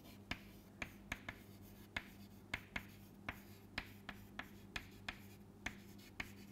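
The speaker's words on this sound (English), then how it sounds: "let me write it here" Chalk or marker taps and scratches on a board during an optoelectronics lecture, a run of sharp, irregular ticks and short strokes over a low steady room hum, no voice.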